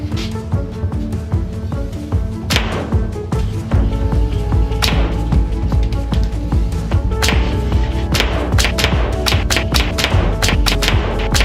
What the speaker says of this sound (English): The arrow is like flying so straight.